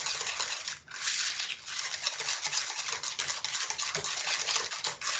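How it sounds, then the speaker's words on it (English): Eggs being whisked into butter and sugar in a bowl for brownies: a continuous, close, dense scraping and clattering with no pauses and no talking. "you can start whisking those in"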